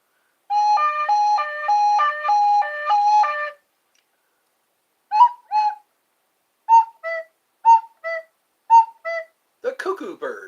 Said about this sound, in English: The cuckoo bird.